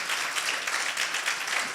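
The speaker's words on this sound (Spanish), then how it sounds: "Un aplauso a Dios." Church congregation applauding during a sermon, a dense steady wash of clapping throughout, moderately distant and even in level.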